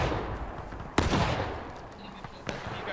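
In the American Civil War game War of Rights, a line of muskets fires a sharp close volley, followed by a rolling rumble and a few scattered later shots.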